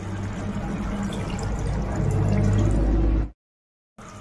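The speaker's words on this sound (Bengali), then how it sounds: "এখন আমি অল্প জল দিয়ে দিচ্ছি।" A little water splashes from a vessel into a yogurt-based eggplant curry, a dense close pour lasting about three seconds before it stops abruptly; a brief silence follows, then faint background sound returns.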